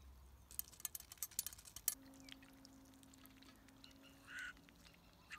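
Domestic ducks kept without a pond, a few soft quacks and honking calls at a distance, faint against quiet outdoor background with light splashing or pouring of water.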